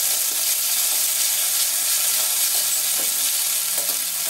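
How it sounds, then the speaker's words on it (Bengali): Ground spice paste fried and stirred in oil in a wok, a steady, loud, close sizzle with light scraping stirs now and then and no speech. "মশলাগুলা দিয়ে ভালোভাবে কষিয়ে নিচ্ছি"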